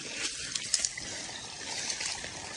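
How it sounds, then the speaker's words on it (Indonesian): Small unnamed waterfall in a quiet forest spot, a steady soft trickle and hiss of falling water at close range, with faint splashes and no talk. "No name waterfall"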